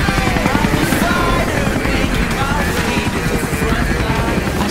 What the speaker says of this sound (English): we got in this helicopter, took off